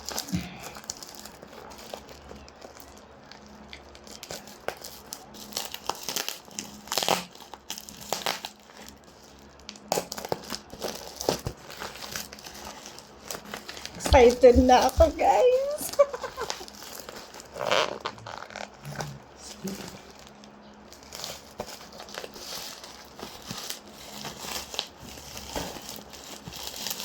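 A plastic package is torn open by hand without scissors, giving crinkling, rustling and ripping sounds that peak in one loud burst midway, with people talking between them.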